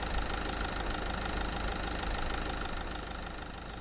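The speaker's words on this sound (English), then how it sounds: "even the sports cars sound like two-stroke putt-putts" A video game car engine putters steadily and loudly throughout, a buzzy two-stroke drone that fades slightly toward the end.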